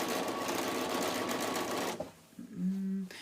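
A sewing machine runs fast and loud stitching jelly roll quilt strips into a row, a dense whirring hum that stops abruptly, followed by a brief clunk and a short steady tone.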